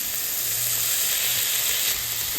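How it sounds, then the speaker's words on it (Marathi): Tomatoes hitting a hot pan for lasooni palak, a loud, steady hissing sizzle close by that holds evenly throughout. "मी यात टाकते टोमॅटो"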